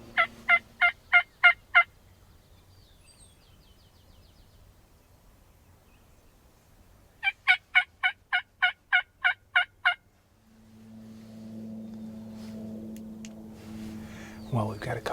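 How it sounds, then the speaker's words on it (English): Wild turkeys gobble in two bursts of rapid rattling calls from a short distance on a spring morning outdoors, separated by quiet, with a low hum and faint voices rising near the end. "we've got a couple birds, it sounds like, working their way in"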